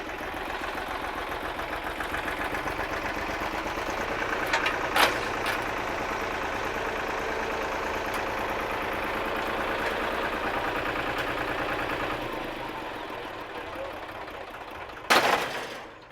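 A tractor engine idling steadily with a throbbing, knocking beat, fitted with JCB tyres, running continuously at moderate loudness with a couple of short sharp bangs.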